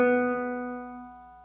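Guitar sounding a three-note chord built from a second plus a fourth below, struck once and left to ring, with steady sustained tones slowly decaying over a quiet background.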